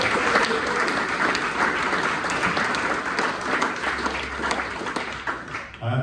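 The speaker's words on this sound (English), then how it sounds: "I would like to give Nick a clap" Applause at a cricket club awards dinner in Haywards Heath, a loud, sustained roomful of clapping with crowd murmur mixed in, continuous over several seconds before tailing off near the end.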